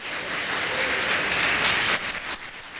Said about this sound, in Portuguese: Agora você dá uma salva de palmas para Jesus